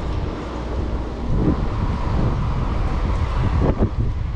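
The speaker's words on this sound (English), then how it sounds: "Sorry about the wind, guys." Outdoor wind buffets the microphone near a bridge while out bass fishing, a steady loud rumbling roar throughout with a few stronger gusts.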